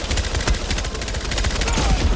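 Rapid SMG fire from the video game Concord, a dense unbroken stream of sharp shots crackling loudly, with no talk over it.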